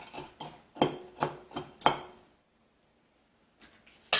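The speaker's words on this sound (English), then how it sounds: "Stir to coat the whole thing." Tortilla chips stirred in a pan for chilaquiles, heard as a run of six sharp, close scraping clatters in the first two seconds, then a pause and two more brief clinks near the end; no talking.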